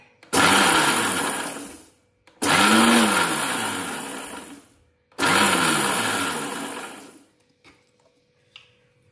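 A mixer grinder pulses dried red chillies into flakes in three loud bursts of roughly two seconds each. Its motor whines up and spins down between short pauses, then the last burst ends in near silence with a faint tap.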